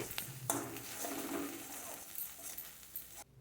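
A spoon scrapes and stirs spice paste frying in a pan for Bengali kachu shak with prawns, with soft clinks of metal against the pan and a low sizzle, close and fairly quiet.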